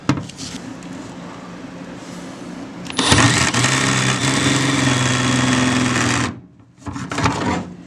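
An electric sheet metal nibbler running in a workshop: a fast buzzing, sewing-machine-like motor whine that starts at about three seconds, runs loud and close for several seconds, cuts off, then starts again briefly.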